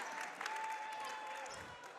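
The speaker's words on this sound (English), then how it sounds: "And a nice round of applause" Crowd applauding at a high school boys basketball game, a faint, distant wash of clapping that holds steady for about two seconds inside a gym.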